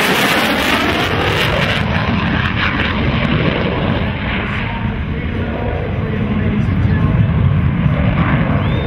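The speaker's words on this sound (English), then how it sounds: "From the right, the Super Hornet photo pass." An F/A-18 Super Hornet jet makes a low photo pass at the Miramar air show with a loud, sustained roar. The broadband rumble fills the air steadily throughout.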